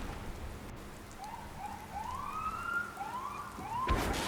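Police car siren in the Roblox video game, a faint wailing tone that rises and falls in several sweeps against soft background noise, ending with a brief louder burst.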